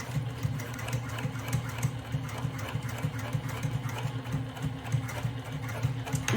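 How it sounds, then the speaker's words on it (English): A sewing machine back stitches fabric closed at the opening of an inner pocket on a hobo bag. It runs with a steady, fast mechanical whir and rhythmic ticking, close up and continuous throughout. "As you can see, we're here at the sewing machine."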